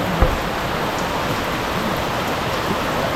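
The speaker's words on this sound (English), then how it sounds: "A little bit of rain." Steady rain falls at a cove in Aloguinsan, Cebu, in the Philippines, a continuous even hiss with no voices over it.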